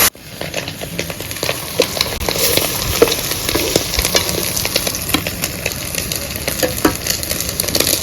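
Egg and tomato fry in a pan with a loud, steady sizzle and crackle that carries on without a break, close up and with no talk over it.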